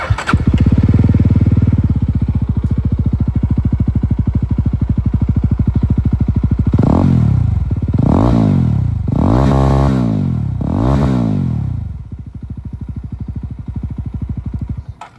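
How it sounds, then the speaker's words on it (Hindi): A 2025 Yezdi Roadster motorcycle engine idles loudly with a steady exhaust rumble, then revs sharply four times in a row, each throttle blip rising and falling, before settling back to idle. "जो एग्जॉस्ट साउंड है वो मैं आप लोगों को यहां पर एक बार बिल्कुल सुना दूं"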